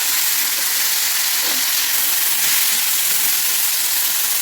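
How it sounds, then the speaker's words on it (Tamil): Tomatoes sauté with garlic in a hot pan, giving a steady, close sizzling hiss that continues evenly throughout with no voices. "இப்போ இந்த ஸ்டேஜில் நம்ம தக்காளி சேர்த்து வதக்கிக்கிறோம்"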